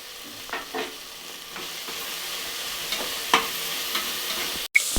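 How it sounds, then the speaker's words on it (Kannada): Capsicum frying in oil inside a pressure cooker for vangi bath, with a quiet background sizzle broken by a few soft scraping stirs of a spoon against the metal and one sharp clink near the end. "ಇದನ್ನು ಒಂದು ನಿಮಿಷ ಚೆನ್ನಾಗೆಲ್ಲ ಫ್ರೈ ಮಾಡಿ"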